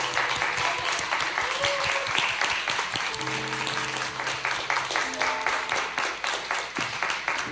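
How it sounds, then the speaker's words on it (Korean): Sustained applause from a church youth congregation honoring their teachers, steady and dense clapping from a crowd that continues throughout, with voices and faint music underneath. "박수는 끝까지."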